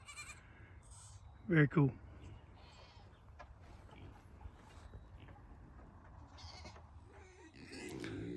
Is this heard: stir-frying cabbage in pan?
no